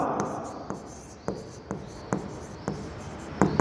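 Chalk or marker writing on a board during a commerce accounting lesson, a series of short scratchy strokes at a fairly regular pace, close and clear, with no talking over them.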